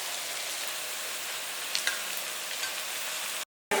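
Thinly sliced large onions frying in a pan for a Kerala pepper chicken fry, a steady dense sizzle throughout, close and continuous, ending with a brief cut.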